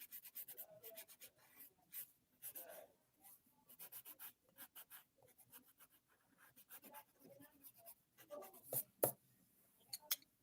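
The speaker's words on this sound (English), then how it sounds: "all I use the blender pencil for really is to just smooth it out" Colored pencil, here a blender pencil, smoothing over paper in a steady series of soft, close scratchy strokes with short pauses between them and no voices.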